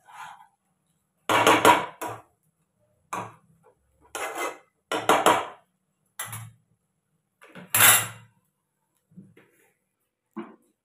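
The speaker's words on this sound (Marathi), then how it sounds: "तर आता ही छानपैकी अशी खिचडी आता परतून घेते मी." A spoon scrapes and clanks against a kadai while sabudana khichdi is stirred, in short, close, irregular bursts separated by quiet pauses.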